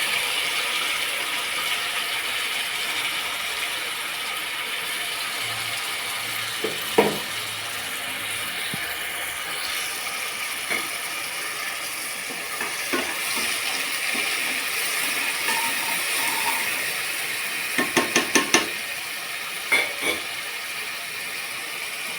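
Shallot and poppy seed paste sizzling as it fries in hot oil in a pan for mushroom biryani: a steady hiss with a few soft clicks and rattles near the end.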